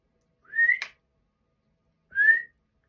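Two short, rising whistle notes sound about a second and a half apart, each quick and fairly faint, against an otherwise silent background.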